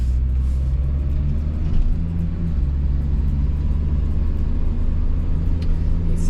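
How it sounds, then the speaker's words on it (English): A cheap, rusty old car with poor alignment cruising on a main road, its engine a steady low rumble with road noise, close and continuous. "I'm gonna take it out on the main road, see if I can get it up to speed."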